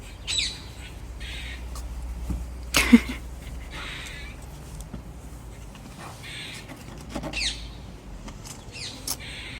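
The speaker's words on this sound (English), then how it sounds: "there is a squirrel up here that is making that really loud noise" A squirrel in a garden gives loud, sharp calls in short bursts, fairly close, over steady outdoor background noise.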